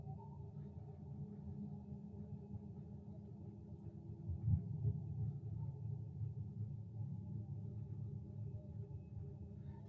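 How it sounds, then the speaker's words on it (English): Distant thunder rolls as a long, low rumble that swells slightly midway and stays continuous throughout, heard alone at night. "You guys just heard thunder?"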